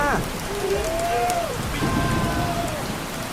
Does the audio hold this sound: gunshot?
no